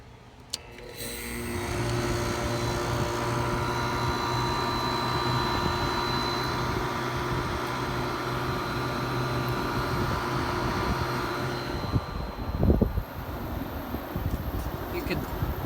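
Compressor of a 1977 Kenmore 6000 BTU window air conditioner running with a steady, close mechanical hum and fan drone, continuous throughout with a few small knocks near the end.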